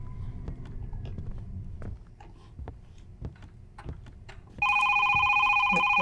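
A telephone in a video game bursts into a loud, sustained electronic ring after a stretch of quiet footsteps and small clicks, ringing steadily near and alone to the end.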